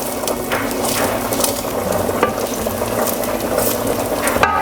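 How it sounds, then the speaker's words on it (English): Garlic and chili pepper sizzling steadily in about three tablespoons of olive oil, a dense continuous frying hiss with occasional faint scrapes, close and loud with no talk. "We're gonna drop in our garlic, let that sweat a bit."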